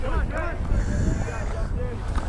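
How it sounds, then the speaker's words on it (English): Wind rumbles against the microphone while a person talks over it, the low buffeting continuing throughout, at an outdoor high school baseball game on a roughly 50-degree day. "It's a windy day"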